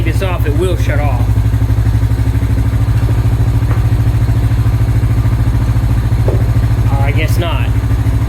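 A Honda Foreman 400 4x4 ATV from 2000 idles close by with a steady low engine drone, and someone speaks briefly over it near the start and again near the end.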